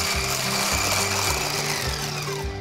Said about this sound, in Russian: Теперь сюда я добавляю потихоньку горячее молоко с ванилью и взбиваю тут же